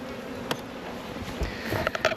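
Welsh Black honeybees at nucs headed by BS honeybee queens buzz softly outdoors, a faint, brief hum with a few louder individual passes near the end.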